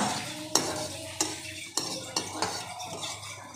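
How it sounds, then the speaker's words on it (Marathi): Garlic cloves roast in a kadhai while a metal spoon stirs them, making about six sharp scraping clinks at a loose, uneven pace over a soft background sizzle. "लसणाचा थोडा वास जावा म्हणून भाजून घेत आहे।"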